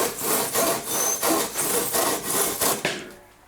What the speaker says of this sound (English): A bit rough with the saw,